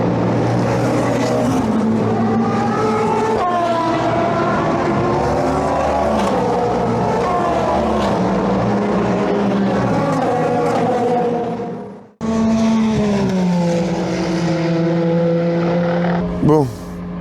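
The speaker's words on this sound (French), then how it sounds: "on va essayer avec tous les moteurs qui passent" Loud race car engines roar past one after another at the 24 Hours of Le Mans, pitch rising and falling, with a sharp close pass near the end.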